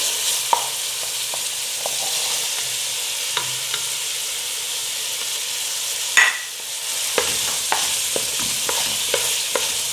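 Vegetables sauté in a pan with tomato paste for a Kabyle dish, a constant soft hiss broken by clicks and scrapes of a utensil stirring, with a brief louder burst partway through.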